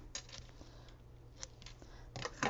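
Scissors snip through ribbon in a few short, soft cuts at close range, faint against a quiet background hum, with a slightly louder snip at the end.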